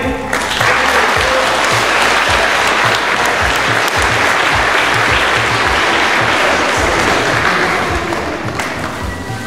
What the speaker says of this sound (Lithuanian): Dar kartą plojimai